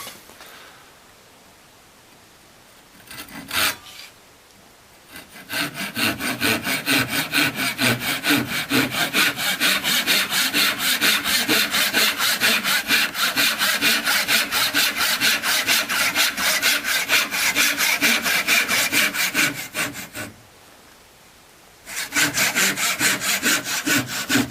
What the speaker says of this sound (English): I'll saw off the waste.